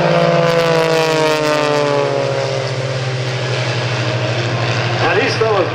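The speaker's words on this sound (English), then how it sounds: "get your cameras ready for this beautiful formation photo pass" Propeller planes of the Iron Eagles aerobatic team make a formation pass at an airshow: a loud, droning engine roar sweeps past with a falling pitch, while a voice speaks over it.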